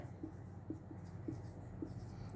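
Writing on a board during a chemistry lecture, soft rhythmic strokes and taps repeating about every half second over a steady low background hum, no talking heard.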